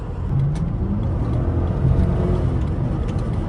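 An old HEMI-powered Chrysler 300 engine runs loud and steady up close, a thick continuous low rumble with no voices over it.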